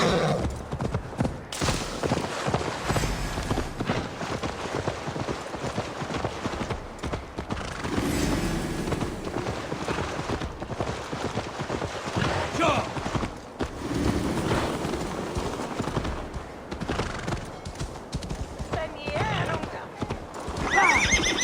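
Horse hooves pound at a gallop with repeated neighs while riding in Assassin's Creed Valhalla, rapid clip-clop under game music and voices shouting and talking throughout.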